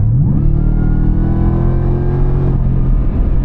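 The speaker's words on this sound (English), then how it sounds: "one pro to that is what you do get is that supercharger whine" Ford Raptor R truck engine revving hard, a loud, close deep roar rising in pitch with a high supercharger whine layered on top, then settling back, with no talking.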